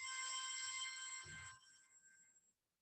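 A mobile phone rings in a repeating electronic tone, steady and clear for about a second and a half before fading, with a soft rustle partway through.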